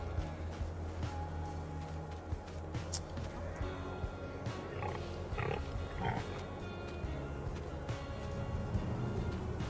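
Pigs grunt and oink in a pen in the Farming Simulator 22 video game, scattered snorts over steady low farm ambience with someone talking faintly.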